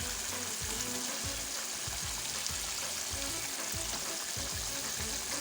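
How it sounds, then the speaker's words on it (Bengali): Katla fish going into a pan of bubbling dahi curry, giving a steady close sizzle and frying hiss with soft bubbling throughout, no voices. "ফুটে গেছে এখন মাছ দিয়ে দিচ্ছি"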